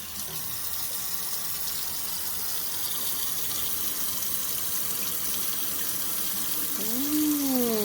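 Water runs steadily from a tap, a continuous loud gushing hiss lasting several seconds, near and alone. A short rising squeak or tone appears near the end.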